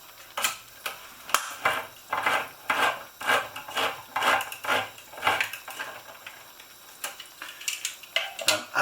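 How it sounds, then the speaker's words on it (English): A handheld tin opener working around the rim of a tin of chickpeas in a home kitchen, giving repeated close rasping, grinding bursts in a steady rhythm with brief pauses, and no talking. "what I do need to do is open this tin of chickpeas"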